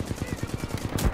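Rapid automatic fire from a Flatline rifle in the shooter game Titanfall 2, a fast, even burst of about ten close, punchy shots.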